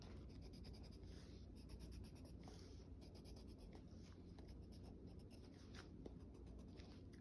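A pencil crayon scratches steadily across paper while colouring in a junk journal, a soft, continuous close-up rasp of quick repeated strokes at low volume.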